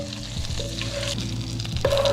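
Butter melts in a hot pan at the start of a beef stew, giving a close, steady sizzle with a few light scrapes and clinks of stirring throughout.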